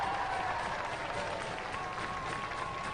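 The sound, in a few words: audience applause at Robot Wars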